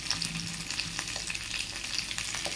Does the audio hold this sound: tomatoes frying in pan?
yes